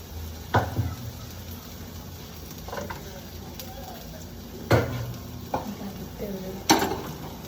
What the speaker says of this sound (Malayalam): നമ്മുടെ തക്കാളി വഴറ്റുന്നത് ഇതാണ്